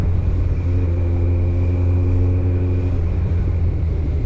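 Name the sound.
Kawasaki ZX-14R motorcycle riding in city traffic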